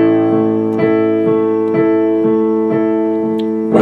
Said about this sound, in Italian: C'è proprio un intro di piano che fa così.